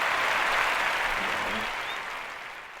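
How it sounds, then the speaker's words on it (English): A crowd's round of applause, a dense steady wash of many hands clapping that stays loud before gradually tapering off near the end. "Really, round of applause."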